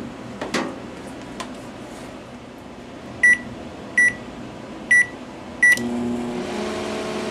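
A microwave oven being switched on for a high-voltage transformer test: a few handling clicks, then four loud evenly spaced beeps, followed by the steady close hum of the oven running.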